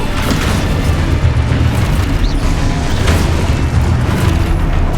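Spell blasts from Confringo and Descendo in the video game Hogwarts Legacy, a dense continuous rumble of booming, bursting impacts that stays loud throughout with no pauses.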